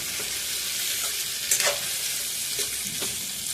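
Vegetable curry for dosa sizzles steadily in a pan while a spoon stirs through it, giving a constant close frying hiss with a few soft scraping strokes.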